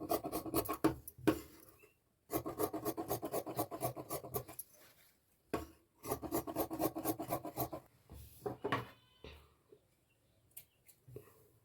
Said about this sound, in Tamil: இங்கே எக்ஸ்ட்ரா பிஞ்சு மார்க் பண்ணி அப்படியே குறைஞ்சி கட் பண்ணிடுறேன்.